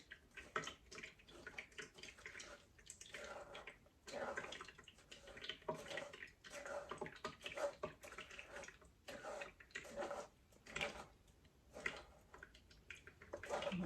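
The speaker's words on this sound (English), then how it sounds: "And you could hear the sauce falling through." Homemade hot sauce from aged garden peppers being pushed through a strainer, faint wet dripping and splattering at close range with irregular bursts of liquid trickling.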